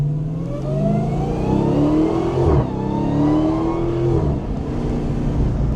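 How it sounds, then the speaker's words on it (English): Dodge Challenger SRT Demon 170 with its supercharged 900-horsepower engine revving up to about 4,000 RPM, a loud, close engine roar with rising supercharger whine, two climbing pulls with a brief dip between, no talk. "We'll give it a little gas here."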